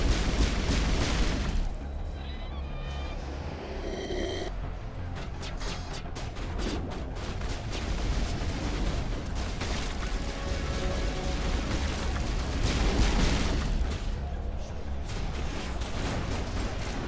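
Mass Effect Legendary combat on Feros: dense, continuous gunfire and booming grenade explosions rumble throughout, with heavy blasts near the start and again late, under intermittent speech.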